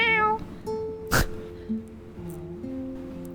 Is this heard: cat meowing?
yes